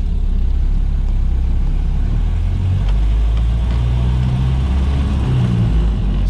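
A Ford Model A with a Burtz block flathead V8 and a Mitchell overdrive drives along with a steady, loud low engine drone and road rumble, and no talk.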